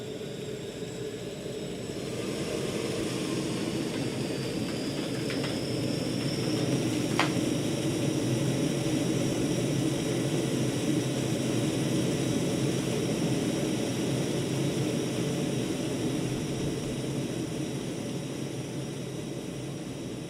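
Simulated engines of an Inibuilds L1011 Tristar airliner in MSFS 2024 spool up, a broad jet roar rising after a quiet start and holding steady with a high whine, loud and continuous with no talking.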